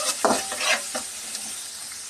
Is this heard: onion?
yes